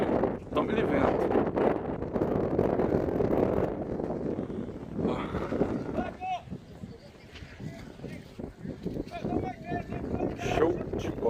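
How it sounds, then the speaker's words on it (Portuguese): Strong wind gusts buffet the microphone on a beach at low tide, a rough roaring rumble that swells and dips, with a person talking over it at times. "E tome-lhe vento."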